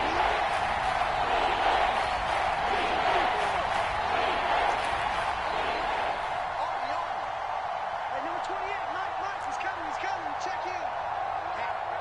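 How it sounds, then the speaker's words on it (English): A football stadium crowd at a Browns versus Raiders game roars steadily before a big third down, a continuous loud wash of cheering and noise throughout. "the crowd getting into it as we come up on a big third down"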